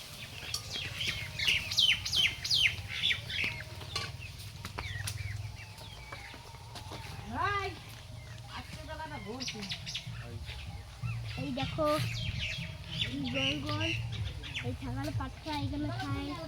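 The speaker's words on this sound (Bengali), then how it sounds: "এই দেখো মুরগিগুলো" Chickens at a rural village home, scattered clucks and chirps coming and going over steady background noise, with people talking nearby.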